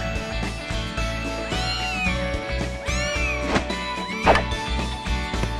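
A cat in the visual novel Little Busters meows several times, loud and close, over the game's background music.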